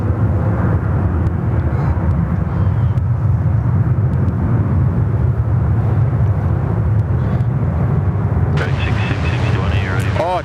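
Qantas airliner bound for Perth departing Sydney Airport, a steady broadband jet roar holding loud throughout, with a brief higher whine rising near the end and voices partly under the rumble.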